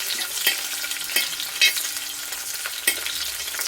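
Shallots frying in a pan with ginger, garlic and green chili, a steady soft sizzle broken by occasional stirring scrapes and clicks, close by with no talking.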